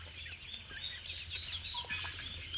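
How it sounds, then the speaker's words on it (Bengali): Chickens in a farmyard, some pecking at feed and others resting, give soft scattered clucks and chirps over a steady low background hum, fairly faint with no talking. "আর এই যে কিছু মুরগি আছে"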